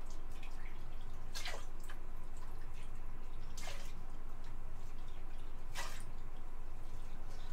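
Water is poured into a paper mache paste mix of joint compound and paste, giving a steady close liquid wash with a few brighter splashing bursts over a constant low rumble.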